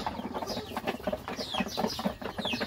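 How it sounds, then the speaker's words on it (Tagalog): Rhode Island Red chickens feed inside a small hut, giving off a busy run of soft, close clucks and short squawky calls in quick, uneven succession. "Check natin itong ating Rhode Island Red dito sa loob ng kubo."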